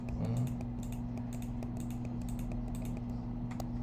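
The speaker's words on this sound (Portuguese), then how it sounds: "Eu vou pegar aqui, vou digitar algumas notas." Keys clicking in a quick, uneven run as notes are entered on a computer keyboard, soft and close over a steady electrical hum.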